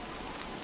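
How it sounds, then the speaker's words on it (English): Rain falling in the video game Don't Starve Together, a steady, even hiss of downpour heard alone for a brief moment. "That's new rain."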